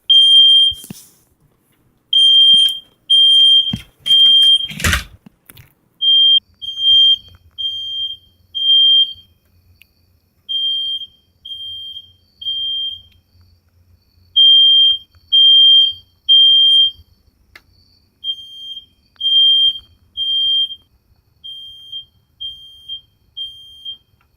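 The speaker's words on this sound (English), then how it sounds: "I just recorded that little beeping because they didn't come and ask was everything all right. Since that smoke detector went off." Smoke detector chirping in loud, rapid bursts of beeps repeating in steady groups, with a brief clattering knock early on and quiet gaps between the bursts.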